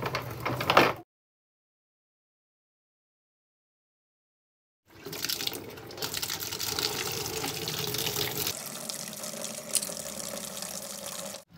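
Water gushes steadily out of a car radiator into a tub during a coolant flush, loud and continuous after a brief burst and a silent gap, with no talking.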